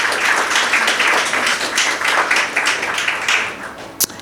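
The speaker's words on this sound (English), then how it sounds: "please give her a round of applause" At a library association's 60th annual general meeting, the audience claps in honour of an absent former president, a steady wash of applause that thins toward the end, finishing with a single sharp tap.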